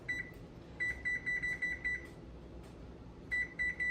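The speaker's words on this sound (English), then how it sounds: "Timer." A kitchen timer chirps a run of short, evenly spaced electronic beeps as it is set, falls briefly quiet, then beeps a few more times, clear and close with no talking.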